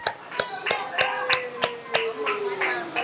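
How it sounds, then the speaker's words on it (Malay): Children clap their hands in a classroom lesson in a rural Orang Asli village, a few sharp claps in loose rhythm beneath a faint sliding tone and some background voices. "tepuk tangan untuk Marsha"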